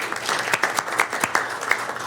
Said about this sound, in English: let's give him a big round of applause for his years of service